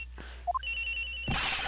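Telephone ringing in the video game Ace Attorney Investigations: a few rising electronic chirps, then a sustained steady ring tone that continues to the end over a low constant hum.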